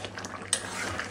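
Fish curry being stirred in a pot with ground fried onion paste and chopped coriander, soft scraping and one sharp utensil clink over a low, even simmering hiss.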